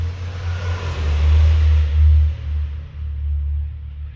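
Dyno pull of a high-powered car engine running a methanol and E85 fuel mix at about 16.7 psi boost, making around 956 wheel horsepower: a loud, steady low rumble that swells and holds with no talk.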